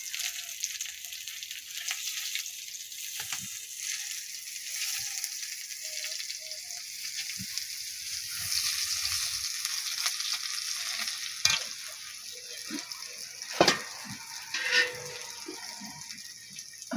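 Chopped onions with cumin frying in a pan, a continuous close sizzle with occasional stirring knocks toward the end.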